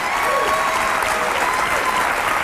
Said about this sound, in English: what a spontaneous applause